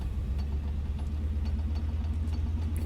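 Simulated Beaver aircraft piston engine in Flight Simulator 2020 while taxiing, a steady low throbbing drone with a regular pulsing beat, close and continuous, with no talk.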